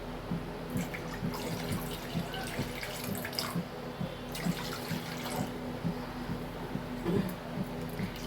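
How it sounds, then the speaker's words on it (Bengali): Water runs from a tap into a wok set over a lit gas stove, a steady splashing trickle with soft drips that carries on evenly throughout, fairly quiet, with a faint hum underneath. "এইবার তাতে খানিকটা জল দিয়ে দেব"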